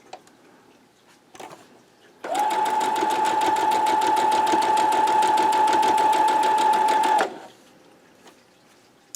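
A sewing machine stitches a quilt block, its fabric edge guided along a quarter-inch presser foot. One steady, close burst of fast rhythmic whirring runs about five seconds and then stops, with quiet room sound on either side.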